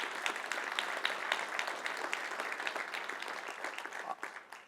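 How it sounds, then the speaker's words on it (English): Audience applause for sponsors at the RFA Convention 2025, a dense, steady crowd clapping that holds for several seconds before starting to thin out near the end. "I think we should all give our sponsors a huge round of applause."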